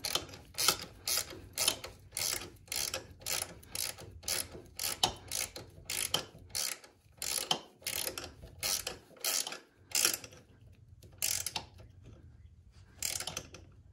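Close ratcheting of wrenches tightening stainless sway bar bolts on a RykerMod N900 setup, quick clicking bursts repeating in rhythmic strokes with short pauses, near and moderately quiet, no talk.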